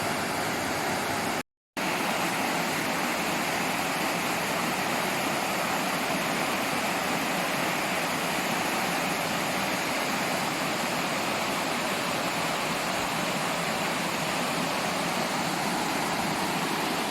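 The Hau Tong Kai stream rushes steadily and loudly as a broad, unbroken wash of flowing water, with one brief dropout near the start.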